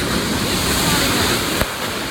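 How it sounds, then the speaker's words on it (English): Large ocean waves break and wash continuously on a beach in knee-deep surf, a loud, broad roar with a brief gust near the end and no voices over it. "there's waves that are huge here"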